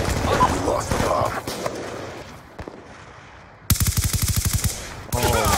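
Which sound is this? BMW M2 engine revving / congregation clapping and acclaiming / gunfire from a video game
gunfire from a video game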